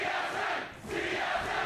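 A large esports arena crowd at a League of Legends match between TSM and CLG roars in sustained, dense cheering, dipping briefly before surging again.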